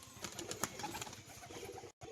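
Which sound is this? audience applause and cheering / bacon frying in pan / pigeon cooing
pigeon cooing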